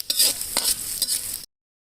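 Onions sautéing in a pan for a beef gravy, with close stirring scrapes and sizzle in brief bursts over about a second and a half, then silence.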